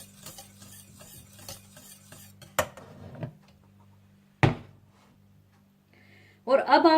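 A spoon stirs caramel custard in a pan, a quick series of soft rhythmic scrapes and taps close by, followed by a couple of sharp metallic knocks against the pan and a brief clatter at the end.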